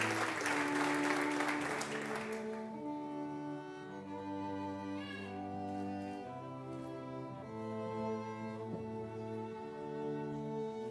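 A crowd at a university commencement ceremony claps for master's graduates. The loud applause lasts about two and a half seconds, then quickly gives way to sustained instrumental music.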